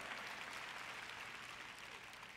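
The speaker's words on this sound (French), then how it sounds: "Vous applaudissez tous" An audience at a French-language sermon claps steadily throughout, a continuous dense patter of applause heard faintly at a distance without any voice above it.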